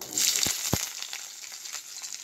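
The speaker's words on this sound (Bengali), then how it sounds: "এরপরে কুচানো পেঁয়াজ দিয়ে দেবো।" Chopped onion hits hot oil already seasoned with cumin seeds and bay leaf for a vegetable dal, giving a steady close sizzle and crackle with a couple of low thumps early on.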